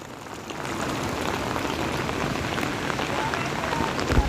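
Heavy rain pours continuously in the Konkan countryside, a dense, even hiss of water striking surfaces close by, unbroken throughout.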